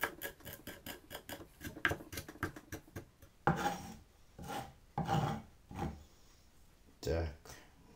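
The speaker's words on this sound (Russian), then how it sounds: "Режем чесночок." A knife chops garlic on a board in a kitchen while making a green sorrel soup, giving rapid close rhythmic taps at first, then slower, separate cuts with pauses between.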